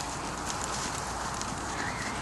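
Rescue draft horse Guinness moving under a rider, hooves clip-clopping amid dense, steady outdoor noise, the footfalls muffled and fairly indistinct.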